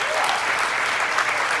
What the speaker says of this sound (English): How about a round of applause for this fantastic band right off the bat?